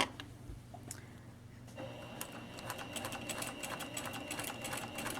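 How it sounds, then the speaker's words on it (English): Up close, a sewing machine stitches in the ditch along a quilt binding, starting with a soft whirr and settling into a fast, even mechanical chatter. "stitch in the ditch means we're going to stitch as close to this as possible, as close to this binding as possible"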